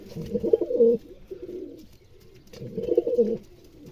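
Red dwarf pouter pigeons coo nearby in two soft, throaty bursts separated by a short pause, with no voices.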